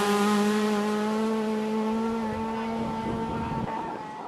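A small Daihatsu Special rally car nicknamed for its size and sound, competing in a Kenyan safari rally, drones past with a steady buzzing engine note that slowly fades as it moves away.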